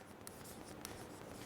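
Writing on a board during a chemistry lesson, a faint continuous scratchy stroke sound with a couple of brief taps, alone and quiet against a low background hiss.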